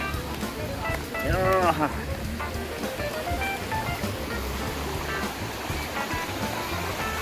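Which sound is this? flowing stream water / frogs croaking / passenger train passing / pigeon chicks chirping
flowing stream water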